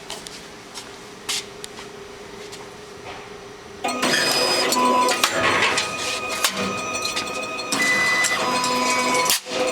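RYO EZ-Fill cigarette filling machine starting up in production, a low hum jumping to a loud busy clatter of mechanical rattling and tapping as its tray shuttles back and forth, steady and close.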